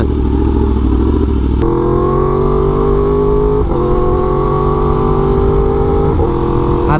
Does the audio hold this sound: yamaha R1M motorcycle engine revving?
yes